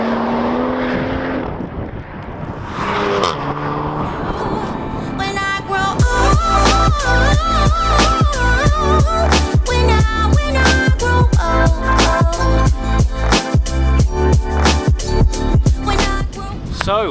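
A BMW M140i hot hatch with a Remus exhaust and a Golf R do full-throttle flybys, with a loud engine roar building, then rapid rising gear-shift pulses as the car passes close by.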